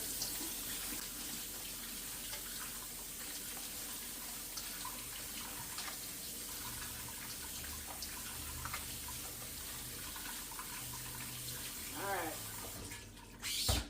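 Tap water runs steadily into a kitchen sink as raw shrimp are rinsed under it, a continuous broadband splash that holds at an even level throughout, with a brief clatter near the end.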